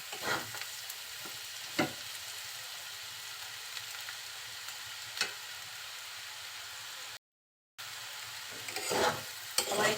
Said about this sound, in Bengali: এখন জাল কম দিয়ে কিছুক্ষণ এভাবে একটু ভেজে নেব।